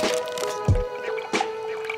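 Water poured into a bag holding raw chicken and dill pickle juice, giving squishy, sloshing liquid sounds with a few thumps and drips, close and fairly loud, with no talking.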